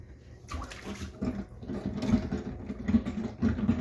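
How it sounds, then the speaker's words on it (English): Water drains out of a kitchen sink after washing greens, a faint, low gurgling and sloshing with a few soft surges, close by and with no talking. "so far that water run out so quick"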